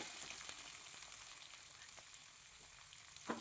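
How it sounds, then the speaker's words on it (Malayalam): Chopped onions and curry leaves sizzle steadily in a pan for a Kerala-style ash gourd masala curry, a constant close hiss with a few soft stirring clicks and no talk. "ഇതെല്ലാം ഒന്ന് മൂത്ത് വരുന്നത് വരെയും ഫ്രൈ ചെയ്യാം."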